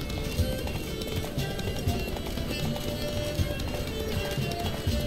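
Horse hooves gallop in The Witcher 3: Blood and Wine, a steady drumming clip-clop running through the whole stretch over a dense, busy game soundscape.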